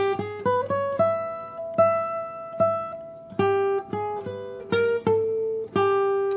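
Clean electric guitar playing a short melodic lick of single plucked notes, some with slides and bends, each ringing briefly.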